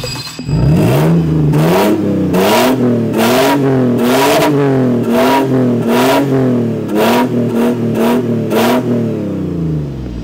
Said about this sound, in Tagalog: So, narinig niyo yung tunog ng exhaust.